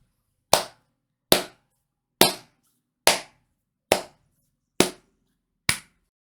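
A golf clap: seven slow, single hand claps spaced evenly about a second apart, each crisp and dry with a quick decay, heard alone against silence.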